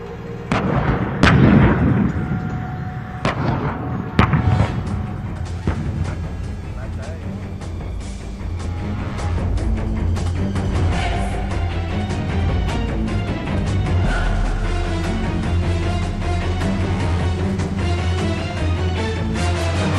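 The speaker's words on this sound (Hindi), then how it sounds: "लद्दाख के सर्द मौसम में तैनात टैंकों को 24 घंटे फायर के लिए तैयार रखना किसी चुनौती से कम नहीं।" T-90 tanks fire during an army exercise in cold Ladakh. A few heavy booming blasts come early, then a dense, continuous rumble of firing takes over, while a voice talks over the sound.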